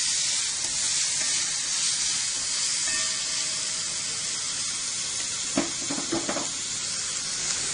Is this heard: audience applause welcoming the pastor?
no